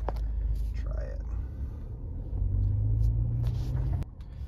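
A 2024 Mini Cooper Clubman JCW pulls away, its low engine rumble swelling partway through into a steadier, louder drone before cutting off abruptly near the end.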